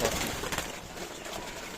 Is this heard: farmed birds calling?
yes